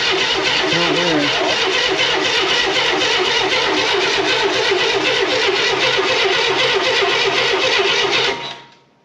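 Starter cranking a rat rod's engine on its first start attempt, a steady, loud, continuous churning that runs for about eight seconds without catching before cutting off.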